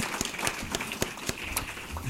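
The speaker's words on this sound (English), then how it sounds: "I'd like to give them a round of applause" Audience at an awards luncheon applauding, a short spell of dense clapping mixed with louder individual claps, heard fairly close.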